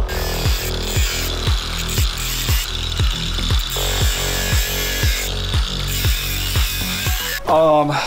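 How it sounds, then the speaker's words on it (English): An angle grinder cuts through an old, worn exhaust flex pipe on a project car. It makes a loud, steady whine broken by regular rhythmic pulses roughly every half second, with a brief shift in tone near the end. "I've now used the angle grinder to remove the old flex pipe"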